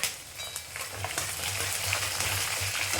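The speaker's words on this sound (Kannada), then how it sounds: "ಸಣ್ಣ ಮೆಣಸಿನ್ಕಾಯಿ, ಬೆಳ್ಳುಳ್ಳಿ ಎಲ್ಲ ಫ್ರೈ ಆಗಬೇಕು" Green chillies and garlic fry in oil for a poha seasoning, a bright, close crackling sizzle that swells slightly as it goes, with a few stirring scrapes and no speech.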